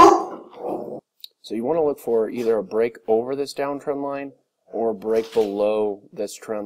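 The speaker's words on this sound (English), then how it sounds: "Sorry about the dogs." Dogs barking in the background, a few short yaps early on that are then buried under someone speaking steadily.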